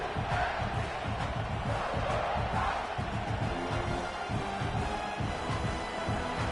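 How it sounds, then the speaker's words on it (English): Stadium crowd at a Texas A&M versus South Carolina college football game, a loud, steady roar of many voices with shouts rising from it, sustained throughout without a break. "Listen to the crowd energy here in the early going."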